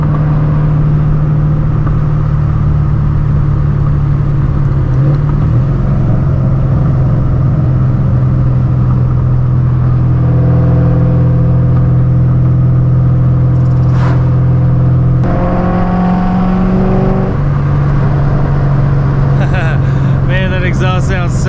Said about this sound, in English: Exhaust sounds so good.